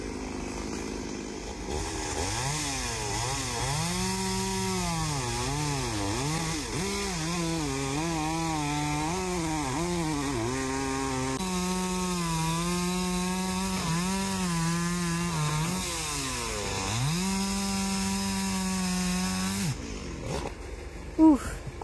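Power saw cutting pine planks outdoors for a forest cabin, a continuous whining buzz with pitch rising and dipping as each short piece is cut, steady and fairly close, stopping abruptly near the end.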